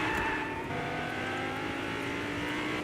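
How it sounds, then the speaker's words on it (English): A low-slung Corvette engine in Fortnite, a steady droning hum that stays loud and even for the whole stretch, with no talking over it. "I'm catching up with this Corvette."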